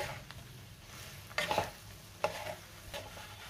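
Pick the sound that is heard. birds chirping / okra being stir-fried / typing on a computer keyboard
okra being stir-fried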